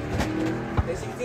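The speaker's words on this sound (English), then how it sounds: "Oh, he's driving that car, boy." A car passes close by with a brief engine rush and a low thump, under nearby chatter.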